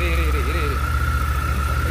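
Car engine idling steadily during a clutch-control driving lesson, a low continuous rumble with a faint whine, while a voice speaks briefly over it.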